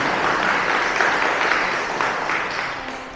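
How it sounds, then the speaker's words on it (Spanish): Church congregation applauding, a dense steady wash of many hands clapping together, loud and sustained throughout the whole stretch, fading slightly toward the end. "Denle un fuerte aplauso al Señor"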